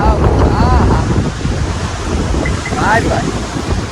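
Strong wind buffets the microphone with a steady low roar, surf-like rushing throughout, and faint voices drift in and out under it, at the Dwarkadhish temple in Dwarka on a full-moon day.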